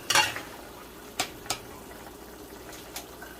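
Pork sautéing in a pan gives a faint sizzle, broken by a few sharp scrapes and clinks of a utensil stirring against the pan, spaced unevenly and close by.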